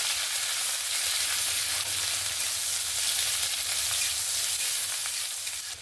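Chopped onion frying in hot oil in a pan for a spicy sea fish curry, a steady loud sizzle that holds on without a break and fades slightly at the end.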